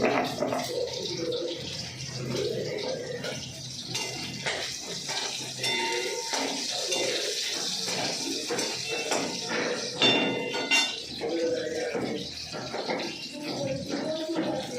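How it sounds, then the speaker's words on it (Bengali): Ginger and cumin are ground by hand, giving a continuous close rhythm of wet scraping and rubbing strokes, with someone speaking now and then over it. "আদা আর জিরে বাটছি।"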